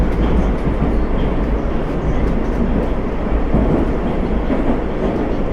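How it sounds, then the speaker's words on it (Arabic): A metro train runs along its track with a steady, loud rumble and rolling wheel noise, continuous throughout, heard close from on board or beside the line. "المترو بتحود ازاي زي الدودة"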